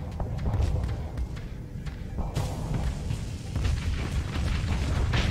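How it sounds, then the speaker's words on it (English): Heavy guns fire from ships in the space combat game Starsector, a steady low rumble of booms and blasts rolling on continuously, with sharper impacts breaking through in the second half. "Get the big guns shooting."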